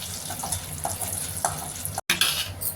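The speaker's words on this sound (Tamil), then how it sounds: "போட்டுட்டு நல்லா மிக்ஸ் பண்ணிக்கலாம்." Turmeric powder being stirred into lemon rice in a frying pan, with a steady sizzle and scraping stir strokes close by, one short break in the middle.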